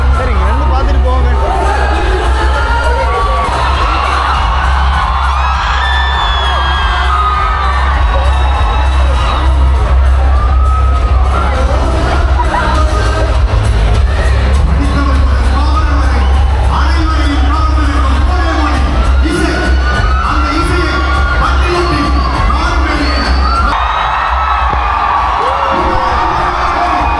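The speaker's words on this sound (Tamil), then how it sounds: "இவனுங்களாம் கத்துறாங்க" Crowd at a bike event in Sri Lanka shouting and cheering steadily, a dense mass of voices with whoops rising over constant low rumble throughout.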